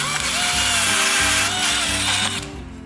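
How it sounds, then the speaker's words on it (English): A power drill bores out radiator mounting brackets, enlarging holes from 5/16 to 3/8 bolt size. The motor whines loudly with stuttering, uneven cuts as the bit bites into the metal, then winds down at the end. "we're gonna drill this out and just open them up for 3/8 bolts instead"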